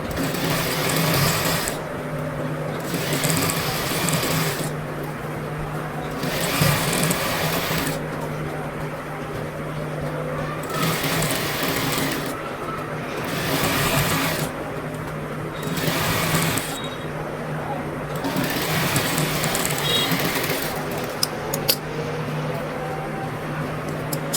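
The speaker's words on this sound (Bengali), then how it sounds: "এটাতে চাপ সেলাই দিতে হবে।" A sewing machine stitching a little girl's frock, running in loud, close bursts of rapid whirring that start and stop repeatedly, with short pauses between runs and a steady background hum.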